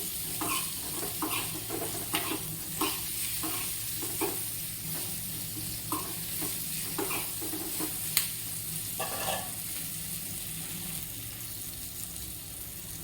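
Chillies with salt frying in a pan for Gujarati marcha sambharo, stirred slowly with steady soft scrapes over a continuous close sizzle, no talking.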